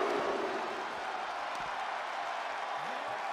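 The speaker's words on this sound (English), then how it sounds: "The sound of this crowd is deafening, and he's asking for more." Wrestling arena crowd in the WWE 2K24 video game roars steadily, a continuous wall of cheering noise held at even loudness from start to finish with no talk over it.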